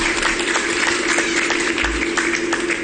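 A crowd claps in a dense, steady wash of applause at a religious sholawat gathering, continuing evenly throughout.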